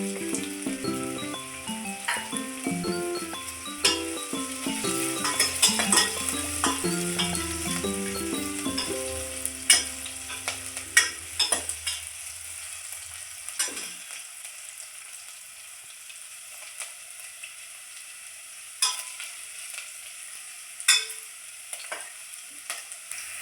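Green chillies fry in oil for soya manchurian, a busy sizzle with stirring clatter for several seconds before the noise drops to sparse faint crackles and occasional scraping taps.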